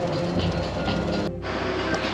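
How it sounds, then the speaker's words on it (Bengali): A metro train runs on an elevated track above water by the sea, a steady loud rumble and rattle of cars passing overhead with a brief dip partway through. "মেট্রো রেল যাচ্ছে ওপর দিয়ে"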